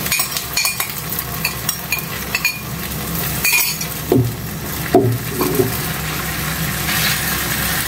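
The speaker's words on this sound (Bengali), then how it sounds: "কোকোনাট কুকিং অয়েল দিয়ে সুন্দর করে ডিম ফ্রাই করা হয়ে গেল" An egg fries in coconut oil in a pan, a steady sizzling hiss with occasional metal clinks and scraping of a utensil against the pan, no speech.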